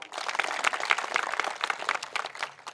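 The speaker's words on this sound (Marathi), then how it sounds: "आपण टाळ्या वाजवून अभिनंदन करू" Rally crowd at an election campaign meeting in Ajang applauding, a dense, steady wash of many hands clapping at moderate distance, continuous without pauses.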